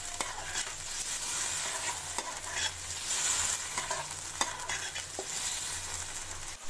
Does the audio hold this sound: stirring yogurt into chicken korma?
yes